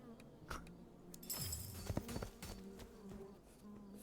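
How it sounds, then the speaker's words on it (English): Bees buzzing after a hive is stomped in a video game: a faint, shifting insect drone with a louder swell in the middle, mixed with other quiet game sounds. "But suddenly there were many more bees around me"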